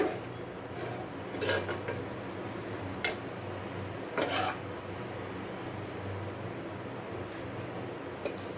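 A utensil scrapes and clinks against a cooking pot of rice and lentils in irregular strokes, over a low steady hum of kitchen background noise.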